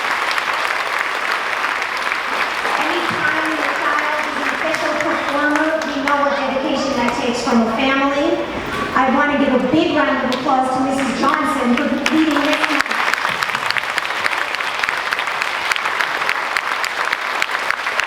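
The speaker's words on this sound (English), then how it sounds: "please, give yourselves a round of applause." An elementary school spring concert audience applauds at length, a dense steady wash of clapping with cheers and voices rising through the middle before the clapping continues on its own.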